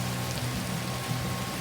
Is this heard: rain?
yes